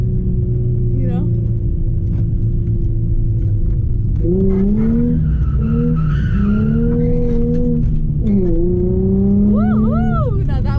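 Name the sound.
Nissan 350z drifting with tire squeal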